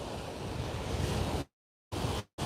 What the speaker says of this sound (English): It is really that windy.